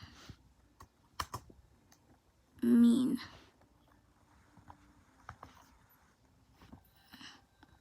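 Keys clatter on a computer keyboard in sparse, irregular taps during a Roblox game session, with a short burst of vocal sound partway through.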